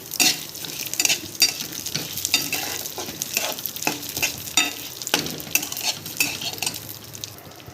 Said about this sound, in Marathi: आता यामध्ये आपण हे तांदूळ टाकणार आहे, हे पण यामध्ये थोडे फ्राय करायचे